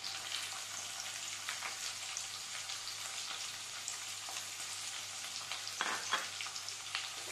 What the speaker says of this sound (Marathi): कांदा थोडासा आपण परतवून घेतला